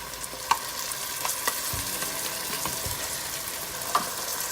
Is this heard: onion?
yes